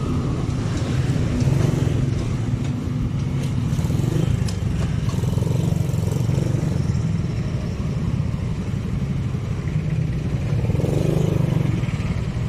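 A Honda Wave 100 motorcycle engine drones steadily and loudly while riding, with a continuous low buzzing hum and wind rumble throughout and slight changes in pitch as the engine speed shifts.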